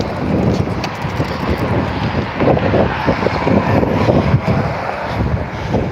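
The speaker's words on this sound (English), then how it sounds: "this is a fairly open area, so even when it's breezy, it's kind of windy" Gusty wind buffets the microphone continuously in an open area of Leominster, a low rumbling roar that rises and falls throughout.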